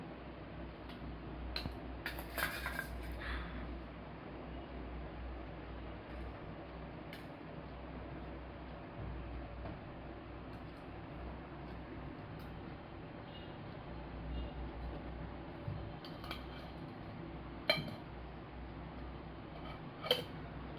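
A little girl plays alone with toy pots and pans, giving off sparse, faint clinks and taps over a steady background hiss, with a few sharper clatters standing out.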